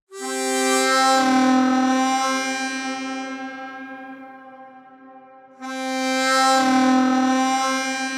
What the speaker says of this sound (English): Then the harmonica. Can't miss the harmonica in, you know,